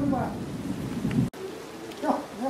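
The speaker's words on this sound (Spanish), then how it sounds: "Ya esto es lluvia ya." Steady rain with wind hisses throughout, with faint voices murmuring underneath and a brief sharp dropout midway.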